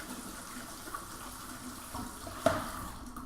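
Canned kidney beans are rinsed under a running kitchen tap, a faint steady stream of water with a small splash near the end and no talk.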